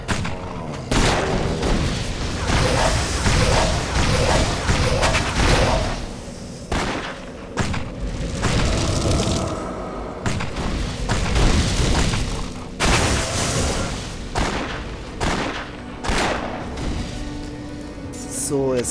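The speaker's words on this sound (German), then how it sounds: "Das Gewehr geht ab." Repeated rifle gunfire and heavy booms from the video game Torchlight, loud and dense throughout, with bursts of shots and impacts layered under a man's speech.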